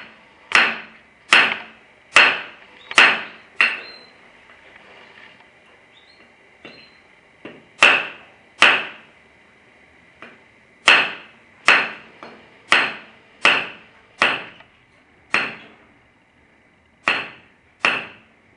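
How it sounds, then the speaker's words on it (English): A heavy builder's hammer drives a nail with about seventeen sharp, ringing blows, struck in uneven bursts of two to five with short pauses between them, close and clear in a quiet room. "You have a heavy hammer down and the hammer of a builder here."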